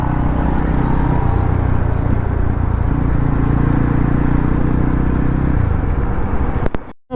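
A Yezdi Roadster motorcycle, stripped of its accessories, rides along with a steady, close engine thrum and shifting exhaust tone, then the sound cuts off abruptly at the end; no one speaks.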